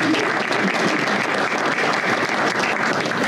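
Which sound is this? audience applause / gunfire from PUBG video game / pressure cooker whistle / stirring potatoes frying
audience applause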